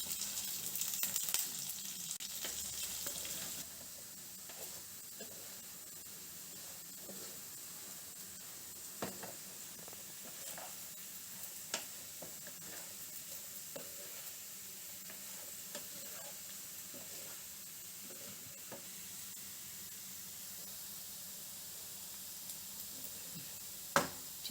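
Food for a spicy South Indian curry fries in a pan with a soft, steady sizzle and hiss. Intermittent scrapes and taps of stirring come through over several seconds, and the sound is louder at the start, then settles to a quieter crackle.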